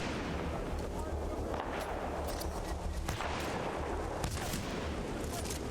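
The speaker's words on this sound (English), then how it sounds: "How about we try this anti-tank gun?" An anti-tank gun fires in Titanfall 2 during heavy combat, sending dense booming blasts through a constant loud roar of battle noise, with a few sharper reports standing out.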